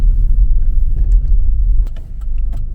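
Automatic car held in second gear on a steep incline with no throttle, a low steady engine rumble inside the cabin with a few light rattles and clicks, fairly loud.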